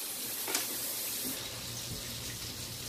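Water runs steadily from a tap into a pot of potatoes in a kitchen, a continuous close hissing gush with a faint clunk near the start and no talk.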